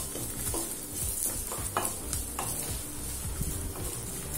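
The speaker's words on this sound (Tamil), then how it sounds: "லேசா வதக்கினா போதும், ரொம்ப வதக்கணும்னு அவசியம் இல்லை" Grated coconut sautéed with curry leaves in a pan makes a steady close sizzle, with repeated spatula stirs and scrapes breaking through at an even rhythm.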